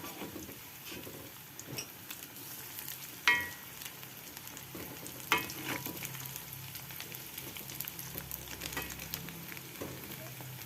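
Crumbled oncom cooks in a pan with a soft, quiet sizzle and faint crackling, and two sharper clinks or scrapes stand out near the middle.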